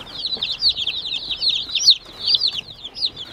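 Many young Murray's Big Red Broiler meat chicks cheep and peep in high, busy overlapping chirps, close by and continuous.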